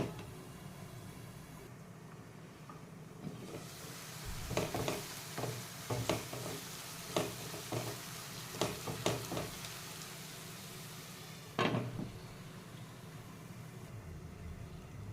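Onions roasting in a pan for a Gujarati-style bottle gourd pav bhaji, a steady low frying hiss with scattered scraping stir clicks through the middle, fairly quiet and without voices.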